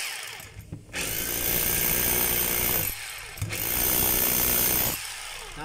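A DeWalt D25032 rotary hammer running in hammer mode, three loud close bursts of fast, harsh pounding with brief pauses between them.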